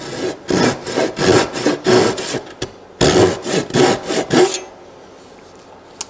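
Hand-sawing an oak stool seat for a camping or shop stool: close, loud, rhythmic rasping saw strokes in two quick runs with a short pause between, then quiet.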